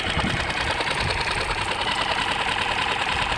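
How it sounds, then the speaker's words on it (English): An outboard motor idles steadily after a carburetor fix, a fast continuous close-up chatter with an even rhythm and no talking. "It's idling really good."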